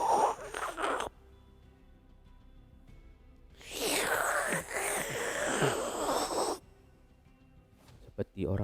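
A voice imitates a sucking-through-a-straw sound: a long breathy, hissing slurp after a short burst of breath, quiet, close and alone.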